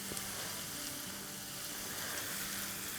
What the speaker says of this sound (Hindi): जिंजर गार्लिक को भी सॉटे होते हुए 30-40 सेकंड हो गए